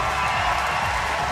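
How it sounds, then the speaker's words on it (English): A big crowd at a Paralympic para-cycling track cheers and applauds for a three-time champion as he gets onto his bike, a steady, dense roar throughout. "Big cheer for Jaco van Gas."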